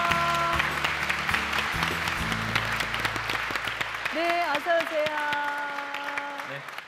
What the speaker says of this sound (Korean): 네, 박수 부탁드릴게요.